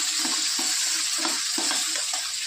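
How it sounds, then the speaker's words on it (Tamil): Garlic being sautéed in a pan for garlic chutney gives a continuous sizzle with soft, regular stirring scrapes, close and fairly loud, no talk. "அப்படியே வதக்கி விட வேண்டியதுதான்."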